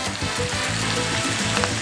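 Garlic hitting a hot pan while cooking spicy lemon-sauce beef, a loud, close, continuous sizzle and crackle with no talking.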